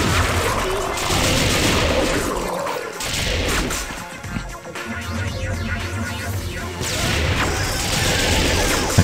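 Grenade launcher attachment in the TimeSplitters video game firing in rapid bursts, loud crashing blasts and gunfire close by with brief pauses and a lull near the middle, with faint voice in places.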